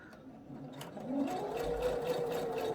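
An Opal 69Q sewing machine stitching embroidery on organza with soluble stabilizer, a steady close mechanical whirr that picks up speed after a soft start, with no voices over it.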